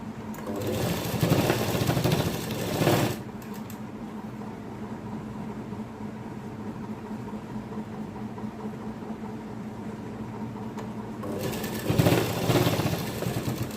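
A sewing machine stitching a side dori kurti runs steadily and close for a long stretch, with louder, busier bursts of stitching at the start and end.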